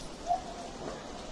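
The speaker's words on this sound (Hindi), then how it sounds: "और हवाओं के साथ साथ में बारिश।" Steady rain falls with wind outside a tent pitched at a temple courtyard during a religious gathering, a soft continuous broadband hiss at moderate distance with no voices.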